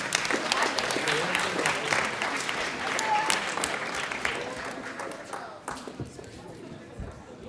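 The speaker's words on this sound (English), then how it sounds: "Let's give him a big round of applause." A big round of applause in a hall for the organizer of a mock trial event, dense clapping that holds strong and then thins out and fades toward the end.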